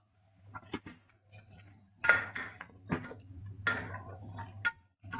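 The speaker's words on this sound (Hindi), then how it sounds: "अब हम कुकर खोलने लगे हैं।" Metal clicks and clanks of a pressure cooker lid being worked loose after cooking tripe, with a few sharp knocks and a low steady hum underneath, close by.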